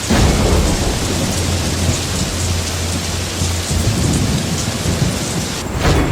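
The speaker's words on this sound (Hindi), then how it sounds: "फिर लगातार 15 दिनों तक बारिश होती रही।" Heavy rain pours steadily with a deep rolling rumble of thunder underneath, loud and close, no voices.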